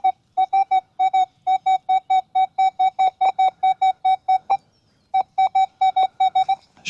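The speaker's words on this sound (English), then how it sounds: "I've got a target, and it sounds a bit like this." Metal detector sounding a target signal near a fence line on an old school and cricket oval: rapid, evenly repeated electronic beeps in bursts with a brief gap near the end, clear and close, no talking.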